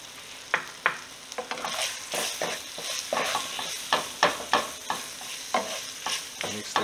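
Seasoning, including Montreal steak and Greek seasoning with garlic powder, stirred into beef sizzling in a pan, with repeated scraping stir strokes over a constant close frying hiss.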